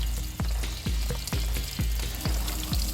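Chopped onions fry in hot oil in a pan for an egg masala curry, giving a steady close-up sizzle with a row of soft, regular low thumps as the pan is stirred.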